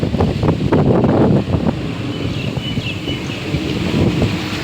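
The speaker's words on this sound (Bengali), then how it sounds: "প্রচণ্ড জোরে ঝড় হচ্ছে" Strong storm wind blows across a rooftop in heavy, buffeting gusts that rumble against the microphone, loud and continuous with no voices.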